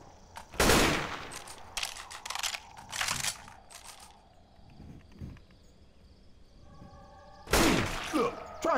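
Gunfire from Left 4 Dead 2: several loud, sharp bursts of shots in quick clusters near the start, middle and end, with quieter mechanical clatter between.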